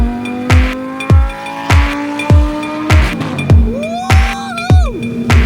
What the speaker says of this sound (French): Quel bruit la Gallardo!